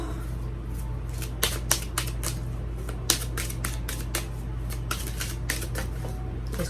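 Cards shuffled by hand during a card reading, a quick series of sharp riffling snaps and flicks up close over a low steady hum, with no talk.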